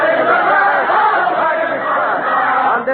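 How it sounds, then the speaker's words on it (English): A large crowd sings and shouts together during the storming of the Bastille, Paris, 14 July 1789, a dense, steady roar of many voices that stays loud and close throughout with no pauses. "The crowd is still singing. I hope you can hear them."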